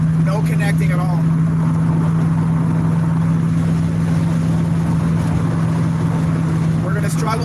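A 1969 Dodge Dart GTS with true dual exhaust, heard from inside with the windows up while driving through agave fields in Jalisco, Mexico: a steady, loud, low engine drone that holds without pauses.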